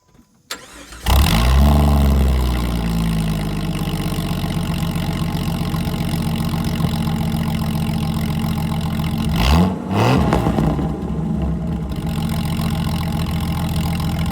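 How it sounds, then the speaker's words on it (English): A car with its catalytic converter removed and a straight-piped exhaust exiting out the sides starts up and idles with a loud, deep rumble, then revs sharply once near the end before settling back to idle. "took the cat off and then basically straight piped it out the sides"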